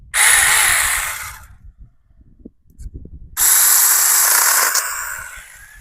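A mini chainsaw pruning a branch of a white peach tree, loud and close: one cut of over a second, a quiet pause, then a longer steady buzzing cut that eases slightly toward the end.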